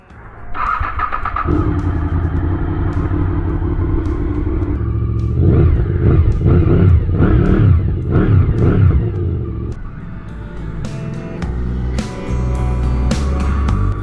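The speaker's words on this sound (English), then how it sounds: "this is the legendary VFR800 from 2001" A 2001 Honda VFR800Fi motorcycle engine starts, idles, then revs in a run of rising and falling bursts before settling back, close and loud with no talking.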